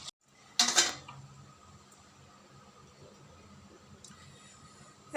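A metal lid clanks down onto a pan of steamed prawns, one sharp clatter of cookware followed by quiet kitchen hiss and a second faint knock at the end.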